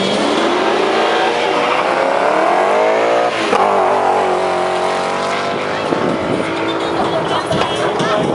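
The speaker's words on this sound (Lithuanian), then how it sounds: "Janis Dimperis, raudonas, BMW 318, šiek tiek prikeltas kapotas" A red BMW 318 drag car with a slightly raised hood launches at a 2012 Lithuanian drag championship round in Kazlu Ruda, its loud engine rising in pitch through the gears while an announcer talks over it.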